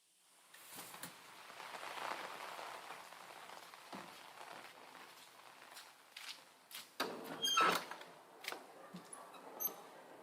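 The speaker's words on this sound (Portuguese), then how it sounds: "vamos fugir da chuva?" Rain falls steadily outside the Teatro Lírico theatre in Rio during a storm, a soft, hissing patter with scattered louder drops and occasional knocks, heard alone at a fairly quiet level.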